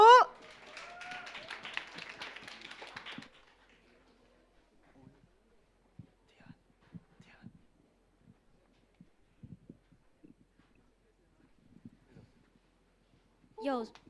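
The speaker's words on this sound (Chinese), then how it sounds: "我们掌声欢迎宜静幸福小组" Audience applause welcomes a group onstage at a church small-group launch event: a dense burst of clapping for about three seconds, then near silence with scattered light taps and a brief sound at the very end.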